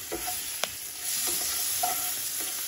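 Butter sizzling in a pan as squash is sautéed, a soft continuous frying hiss with a few light clinks of stirring, fairly quiet and without talk.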